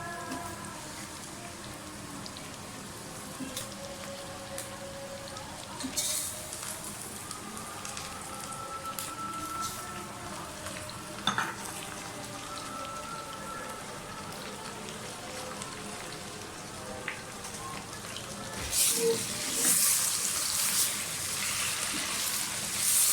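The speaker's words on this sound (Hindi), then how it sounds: "गोश्त को अच्छी तरह से भूनें" Mutton pieces frying in a pot with browned onions and whole spices for rogan josh, a steady close rain-like sizzle running throughout, with occasional sharper crackles and a louder spitting burst near the end.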